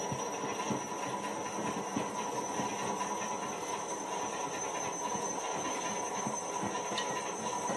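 A Miele Prestige Plus W562 washing machine runs a 60°C cotton cycle on a half load, giving a steady, continuous rumbling roar with a faint high whine and no voices.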